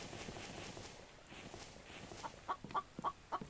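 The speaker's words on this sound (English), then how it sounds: "That chicken may not be stuck." Soft, distant chicken clucks in a survival-building game, first buried in low ambient noise, then four short, evenly spaced clucks near the end.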